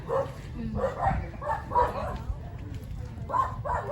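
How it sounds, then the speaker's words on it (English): A German Shepherd barks a few times in a street lined with houses in Poblacion, Catmon, Cebu. The short yips and bow-wows come close by, mixed in with people talking over them. "So here's the dog, the German Shepherd."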